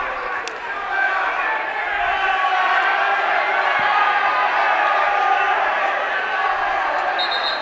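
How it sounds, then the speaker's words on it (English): A loud, steady roar of an unhappy crowd fills a high school basketball game, broad and continuous with scattered shouts, while commentators talk over it. "South crowd does not seem happy."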